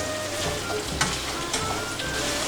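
Garlic and onions fry on moderate heat in a pan, giving a steady, close sizzle with a few faint stirring clicks and no talk over it.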